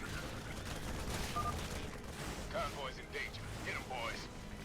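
Protoss cannons and psionic storm shred trapped Zerglings in the StarCraft II: Wings of Liberty video game, a dense crackling barrage of rapid bursts and zaps running continuously beneath talk.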